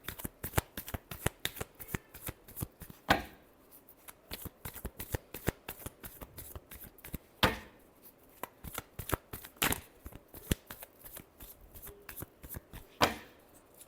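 Tarot cards are shuffled by hand in quick riffling bursts, with crisp rapid flicks and several sharper slaps of the deck, close and clear without talk.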